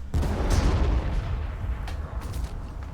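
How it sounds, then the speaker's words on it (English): A Basilisk Earthshaker cannon fires in Warhammer 40,000 Armageddon, a deep booming artillery blast that rolls out and rumbles for a few seconds, loud and alone. "Since we can fire with the Basilisk, look at that range. We're going to do just that with the Earthshaker cannon."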